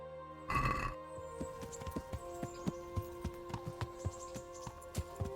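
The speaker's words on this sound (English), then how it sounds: "A horsey. This is Pebbles." A horse's hooves clop in a steady rhythmic walk in the medieval game Kingdom Come: Deliverance, after a brief burst of snorting, with a faint musical drone underneath.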